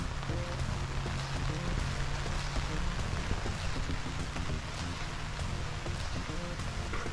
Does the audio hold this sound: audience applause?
no